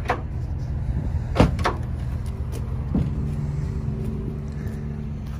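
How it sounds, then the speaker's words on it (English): The multi-pro tailgate on a 2020 GMC Sierra 1500 AT4 folds out and down, giving a couple of close latch clunks and metallic knocks about a second apart over low steady background rumble, with no speech. "And then the multi-pro tailgate. Folds out, folds down."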